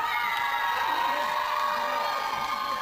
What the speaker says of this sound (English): it is very strange to hear him being cheered like this